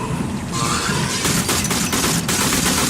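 Rapid gunfire in the video game Warframe crackles in dense, overlapping bursts, a loud continuous barrage with sharper shot spikes scattered throughout.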